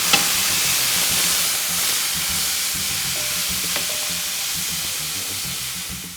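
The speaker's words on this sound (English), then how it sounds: "Sear it on all sides before we pop it into the oven to finish off its cooking." A beef fillet sears in a hot pan, a loud, steady sizzle and hiss running throughout, with a couple of faint knocks from turning the meat and no talking.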